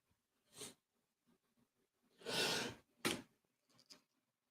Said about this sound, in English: Sorry, I had a little yawn.